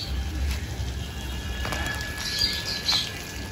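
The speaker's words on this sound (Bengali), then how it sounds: "এই যে পায়রা নিয়ে চলে এসেছি বাইরে, এখানে উড়াবো।" Pigeons released outdoors beat their wings in takeoff, giving a soft, fluttering whoosh of flapping with a couple of brief louder flurries over a steady low background hum.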